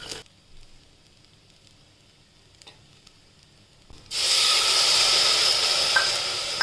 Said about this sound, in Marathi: खोबरं आपण टाकूया, परत छान परतून घ्यायचा.